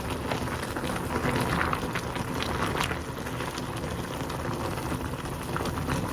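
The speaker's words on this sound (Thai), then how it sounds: "ไว้เดือดปุดๆค่ะ" A pot of clear pork bone soup bubbles at a steady rolling boil, a continuous dense hiss of popping bubbles with no voices.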